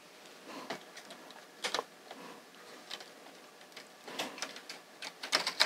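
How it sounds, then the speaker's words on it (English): A 3-prong transfer tool moving stitches on an LK 150 knitting machine: soft, faint scrapes and light metallic clicks, scattered and irregular, with a louder cluster of taps near the end. "So I'm going to use my 3-prong tool."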